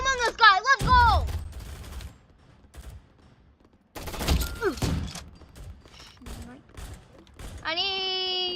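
Video game gunfire crackles in rapid bursts during a gun fight arena match, mixed with children's excited voices talking over it.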